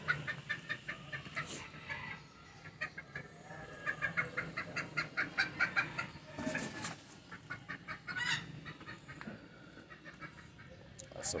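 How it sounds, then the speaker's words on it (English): Wild chickens in a rough yard in Azua, Dominican Republic, give repeated clucks and calls at moderate distance, with someone talking over them now and then. "Wild chickens."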